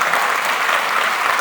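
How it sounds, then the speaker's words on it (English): A large audience at a masterclass session with Ustad Zakir Hussain rises in a standing ovation, their dense, steady clapping filling the hall loudly and evenly. "I'll request you to give Ustad Sahab a big round of applause"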